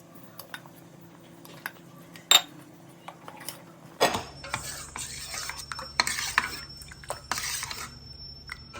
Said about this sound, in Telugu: పచ్చి పాలతోని కస్టర్డ్ పౌడర్ అనేది మిక్స్ చేయాలన్నమాట మిక్స్ చేస్తున్నాను ఇప్పుడు